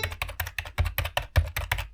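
A small computer keyboard is typed on at close range, about a dozen crisp clicking keystrokes in a quick, slightly uneven rhythm over two seconds, with no voices.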